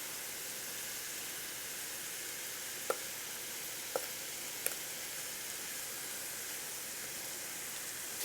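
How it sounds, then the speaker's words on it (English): Garlic and tomato paste frying in a pan, a faint, even sizzle and hiss running steadily with a few light clicks of a utensil. "Kind of toast that tomato paste a little bit."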